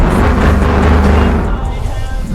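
Jeep SUV engine roaring at high speed in the mobile driving game RealCar Parking 2, a loud, steady, close drone that eases slightly near the end.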